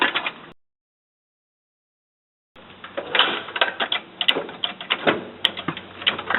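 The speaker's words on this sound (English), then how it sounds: "Now we're jacking up the other side." A jack raises the other side of a 1987 Toyota 4Runner during an Old Man Emu leaf spring install: a brief clatter, a silent gap, then a steady run of close, irregular ratcheting clicks and metallic taps with no voices.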